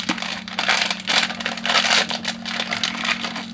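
A plastic bag crinkles and rustles while a Popmart Batman figure of the 2008 Dark Knight is unboxed from a bag within a bag. Close, irregular crackling bursts run throughout over a faint steady hum.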